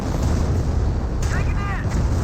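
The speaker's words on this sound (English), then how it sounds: "We've got also now a Hummel barrage in this region." Hummel artillery barrage in Company of Heroes: dense, loud rumbling booms and blasts roll continuously, with some whistling tones and game sound layered over them.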